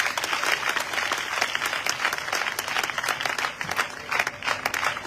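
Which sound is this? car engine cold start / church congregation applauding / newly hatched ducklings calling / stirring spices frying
church congregation applauding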